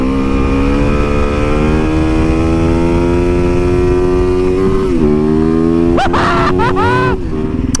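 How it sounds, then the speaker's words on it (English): A loud Kawasaki motorcycle engine revs hard during a wheelie and holds a high, steady roar, with a brief dip and a few sharp throttle blips near the end. "Meanwhile, I'm gonna bust a wheelie"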